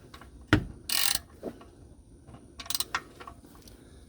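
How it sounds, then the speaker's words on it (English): A ratchet wrench clicks in short, quick bursts during an oil change on a Chevy truck, the sharp clicking coming close and alternating with near silence. "Where's my ratchet? There's my ratchet."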